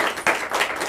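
Audience applause at a final pitch event, brief and bright, with a burst of many hands clapping that pulses and continues across a short moment.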